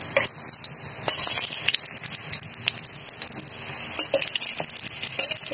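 Samosas, called singara, fry in a small amount of oil, giving a loud close sizzle with bursts of popping and spitting that rise and fall over a constant bubbling hiss.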